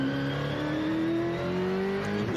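Onboard roar of a current-spec Grove Racing Mustang Supercars racer, a loud, steady engine note climbing gradually in pitch as it accelerates, continuous and close with no voices.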